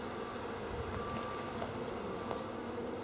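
Honey bees buzz steadily inside a newly opened hive during an inspection, a dense continuous hum close by with no talking.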